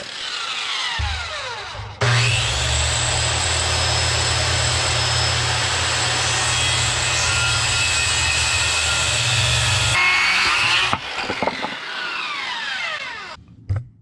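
A power saw cuts wet treated lumber for deck joist extensions during a house build. One loud, steady cut lasts about eight seconds between the spin-up and the wind-down, followed by brief handling clatter.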